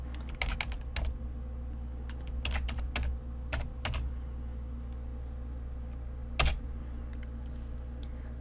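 Keys clack on a computer keyboard in short bursts of typing, with a final louder keystroke near the end, all set against a steady low hum.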